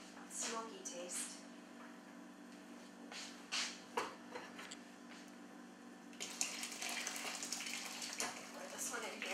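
Broth or liquid is poured into a pot of spicy chicken soup, a splashing gush building near the end after scattered clinks and faint pouring noises.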